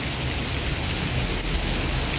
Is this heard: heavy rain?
yes